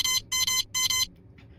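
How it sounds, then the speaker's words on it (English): A communication watch gives an electronic beeping alert: three rapid, bright bursts of beeps in quick succession, clear and close, followed by a fainter trailing chirp. "Meanwhile, back at Phineas and Ferb's invention warehouse, we hear a beeping sound"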